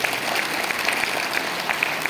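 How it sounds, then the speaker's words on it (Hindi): An audience at an appointment-letter ceremony at Haj Bhavan in Patna claps to welcome a guest, a steady, dense applause that fills the room at an even level throughout. "बेहतरीन तालियों से सर का स्वागत।"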